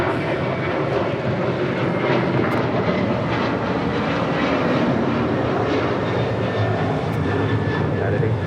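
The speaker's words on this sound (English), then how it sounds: "1810 departing to Houston Intercontinental on a 737-900 ER" A United Boeing 737-900ER jet departs on a takeoff roll for Houston, giving a loud, steady broadband engine roar that fills the whole stretch with no break.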